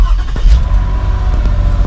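A 2006 Toyota Kluger engine cranks and catches after a throttle body replacement, a loud, close, steady low rumble settling into idle with a few brief knocks, and no talking.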